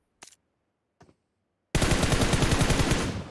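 Gunfire in the battle-royale game PUBG Mobile: two single sharp shots spaced apart, then a loud sustained burst of rapid automatic fire that rattles on close and dense, with no talk over it.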